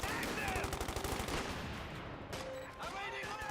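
A mortar shell bursts amid steady battlefield gunfire in Company of Heroes 2, loud and close within a dense mix of shots and game effects, while a voice talks over the action.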